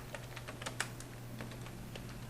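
Quiet typing on a computer keyboard while an SQL join query is entered: a short, irregular run of soft key clicks over a low steady hum, with no speech.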